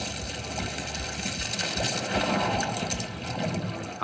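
A foley water effect for film sound: continuous rushing, churning water like a flush or pour, moderately loud and steady with bubbling texture and no voices.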